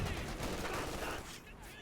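Panzer IV cannon and machine gun fire in the video game Company of Heroes 2, a quick volley of rattling gunfire bursts that trails off toward the end, fairly faint and mixed.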